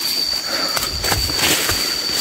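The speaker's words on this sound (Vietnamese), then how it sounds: "Ui, nước suối này." Rushing forest stream swollen after a night of rain, a steady broadband wash of water filling the scene at close range, with no voices.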